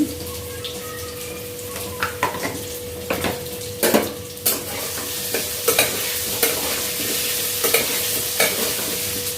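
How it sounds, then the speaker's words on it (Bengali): Potato pieces fry in a wok with a loud, steady sizzle, punctuated by repeated metallic scrapes and knocks of a spatula stirring them at close range, with no talking. "তো এখানে আমি আলুগুলো আগে ফ্রাই করে নেব"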